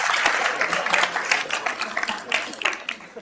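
A lecture-hall audience claps vigorously and continuously, dense overlapping hand claps sustained at steady loudness throughout.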